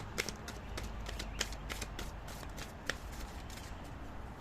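Angel oracle cards being shuffled by hand, soft rapid riffling and flicking with a few sharper snaps, close and quiet with no talk.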